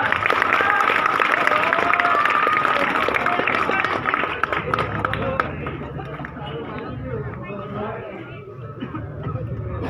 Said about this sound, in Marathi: वाजवा टाळी जोराना